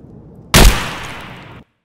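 A single AK rifle shot firing a PS round in the video game Escape from Tarkov, a sharp loud crack followed by a decaying echoing tail lasting about a second before cutting to silence.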